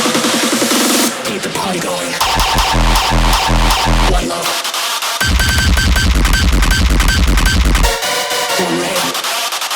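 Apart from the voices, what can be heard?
hard techno track finished with clipper and Pro L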